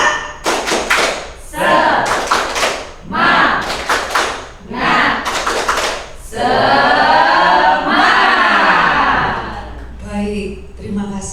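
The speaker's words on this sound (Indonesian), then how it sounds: "Coba tepuk semangat." A group of teachers doing the rhythmic Indonesian "tepuk semangat" spirit clap, with loud, sharp bursts of claps in patterned clusters, interleaved with voices chanting and calling out together.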